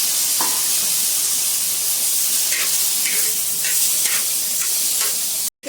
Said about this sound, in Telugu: అదే ప్యాన్లో కొద్దిగా ఆయిల్ వేసి ఆనియన్ ముక్కలు బాగా ఫ్రై చేద్దాం.